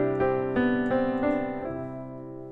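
Pop piano fill in 6/8 using an add9 chord with a grace note, played as a few rolled, ringing chords in a lilting rhythm that sustain and fade at the end, played alone without talk.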